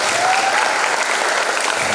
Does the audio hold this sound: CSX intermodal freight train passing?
no